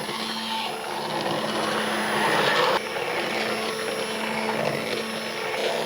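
An immersion blender whirs through tallow soap batter with a loud, steady motorized hum that briefly rises in pitch and intensity, then cuts back and continues.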